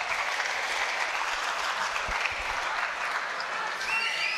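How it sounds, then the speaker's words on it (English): A crowd at a live professional boxing event applauds in a steady, dense wash of clapping that holds evenly throughout, with faint voices mixed in near the end. "Let's have a big round of applause for Gansman all the way from Poznan"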